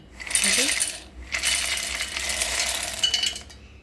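A rattling, clinking pour of roasted peanuts into a mixer jar, two bursts of scattering clatter, close and fairly loud.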